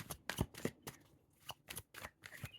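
Tarot cards being shuffled by hand in quick crisp riffles and bridges, several bursts of papery flutter with short pauses between them, close and clear with no voices.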